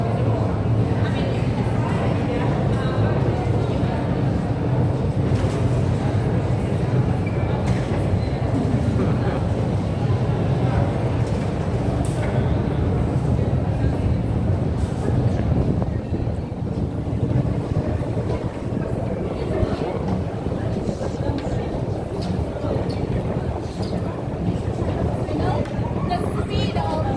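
A Moscow Metro subway train running fast, a loud steady roar and rumble of the carriage that continues unbroken throughout.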